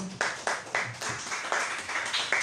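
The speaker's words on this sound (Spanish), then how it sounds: "Denle una ofrenda de aplauso al Señor." A church congregation claps together in a steady, quick rhythm, each clap sharp and evenly spaced, the sound of a whole room rather than one person, with no talking over it.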